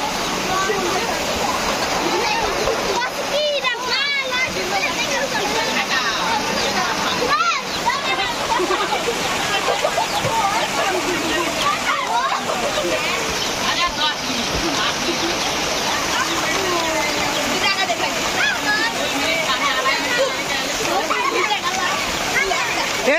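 Heavy rain pours and splashes in a village, a loud, unbroken roar of falling water and splatter, with people talking over it throughout.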